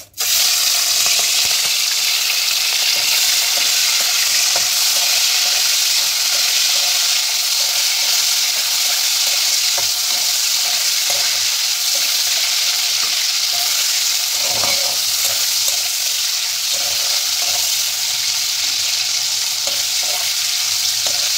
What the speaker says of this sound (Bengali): এবার আমি এটা হালকা করে ভেজে নেব।